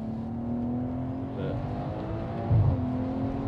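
Stage 2+ tuned BMW 540i, around 480 horsepower, revving at about half throttle, giving a moderate engine drone that swells briefly with a low thump near the end, fairly quiet and heard without talk.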